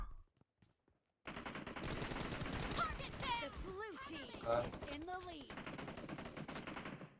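Rapid automatic gunfire rings out in the mobile battle-royale game PUBG Mobile, with dense bursts of shots carrying steadily for several seconds after a brief quiet start.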